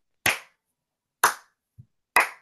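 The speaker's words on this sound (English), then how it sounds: "let's clap it up for the Detroit Lions" Three sharp, loud hand claps spaced about a second apart, each crisp and isolated against silence, with a faint low thump between the second and third.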